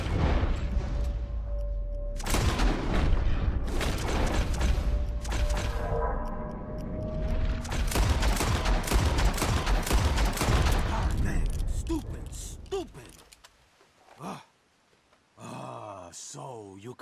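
Gunfire aimed at flying birds in Red Dead Redemption 2, a loud burst of rapid shots and booms in two volleys, then fading into quieter ambience as a voice speaks near the end.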